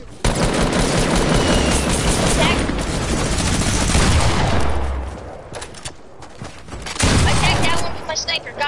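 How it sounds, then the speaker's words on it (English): AK rifle fire in a multiplayer video game: sustained loud automatic bursts fill the first five seconds, then quieter scattered shots, then another loud burst, with voices talking over parts of it. "I sniped him and then I got him with my AK"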